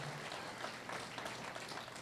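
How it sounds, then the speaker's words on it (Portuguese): A church congregation applauds, a steady even clatter of many hands that stays fairly quiet and distant throughout, with no voices rising above it. "Dê um aplauso a Jesus por essas vidas, queridos."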